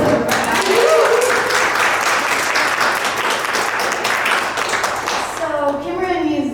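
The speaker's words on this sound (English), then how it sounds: "Let's give her a round of applause" Loud audience applause at a housing development speaker series fills the room for several seconds, dense clapping with a few voices mixed in, then thinning out as a speaker begins talking near the end.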